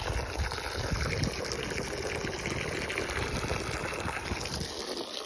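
Water gushes steadily from a retractable garden hose into containers on a homestead, a continuous close, loud rushing and splashing with no talking.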